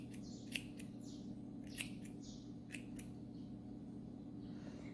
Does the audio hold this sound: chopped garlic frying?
no